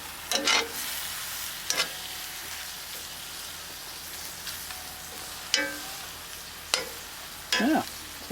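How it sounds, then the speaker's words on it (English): Mushrooms frying in butter in a skillet, a steady soft sizzle broken by several sharp scraping stirs of a utensil against the pan, close and clear with no voices. "Nothing better than butter fried mushrooms."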